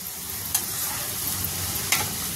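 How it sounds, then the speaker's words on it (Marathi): Colourful mixed vegetables for veg fried rice stir-fried in an open pan, with a steady close sizzle and two sharp spatula scrapes breaking through; no talking. "आपल्या भाज्या 3-4 मिनिटं छान हलवून झालेले आहेत"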